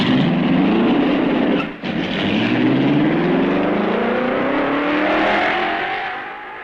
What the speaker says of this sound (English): The road is clear and Eugenio Castellotti starts the wheels rolling.